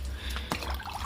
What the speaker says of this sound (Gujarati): બધા પ્લાન્ટ્સમાં પાણી વેડી દઈએ.